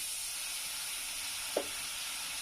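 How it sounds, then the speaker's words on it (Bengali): Spice masala hissing in a hot pan just after a splash of water goes in: a steady, even sizzle with one soft knock partway through. "একটু পানি দিচ্ছি"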